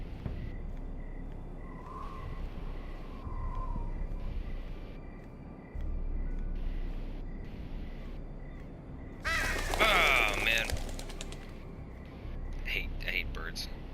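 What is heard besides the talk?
birds cawing and cooing in a Game of Thrones video game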